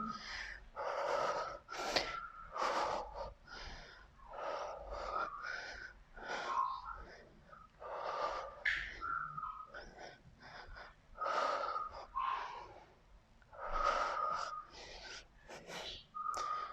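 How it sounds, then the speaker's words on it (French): Forceful breaths during a home cardio leg raise exercise, repeated hard exhales and gasping, wheezy breaths in an uneven rhythm, close and fairly loud, with no talking. "Et on souffle."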